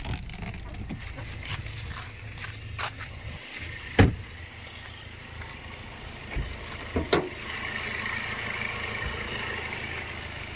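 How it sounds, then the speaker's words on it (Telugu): A 2020 Kia Seltos diesel engine idles as a steady, quiet low hum, broken by a few sharp clicks and knocks nearby. "ఇంజన్ సౌండ్ చూపిస్తాం, ఇంజన్ చాలా సైలెంట్ ఉంది"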